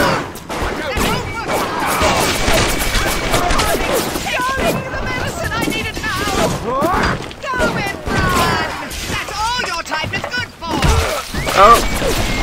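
Automated turret firing in the BioShock video game, scattered loud bangs and impacts mixed with crashes and thuds amid chaotic combat noise, with someone talking over much of it.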